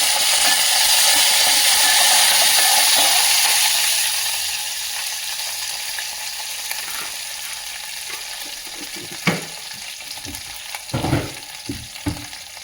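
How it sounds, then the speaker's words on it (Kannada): Curry leaves sizzle in hot oil as a tempering for a dried red chilli chutney, a loud steady frying hiss that fades after a few seconds, followed by a few sharp clinks and taps of utensils. "ಹಾಗೆ ಕರಿಬೇವನ್ನ ಹಾಕಿ ಗ್ಯಾಸ್ನ ಆಫ್ ಮಾಡಿಬಿಡ್ಬೇಕು."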